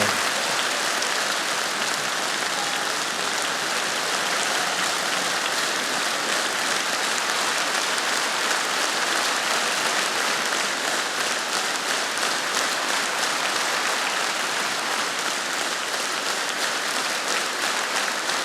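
Sustained audience applause at a comedy league show, dedicated to the Third Separate Assault Brigade of Ukraine's Armed Forces: a dense, unbroken roar of many hands clapping, loud and even for the full length.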